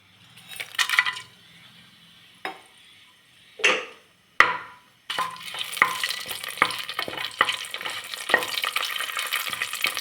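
Spices drop into hot oil in a cooker for restaurant-style veg donne biryani, a few clinks and stirring scrapes, then a sudden loud, steady sizzle that keeps crackling close up.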